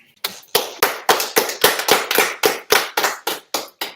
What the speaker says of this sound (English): So, all right, clap it up.